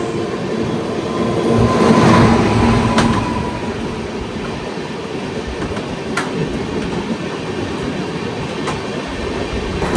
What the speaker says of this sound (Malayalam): പോർബന്ദറിന് ദാദർ പോകുന്ന സൗരാഷ്ട്ര സൂപ്പർ ഫാസ്റ്റ് ആണ് ഈ പോകുന്നത് കേട്ടോ.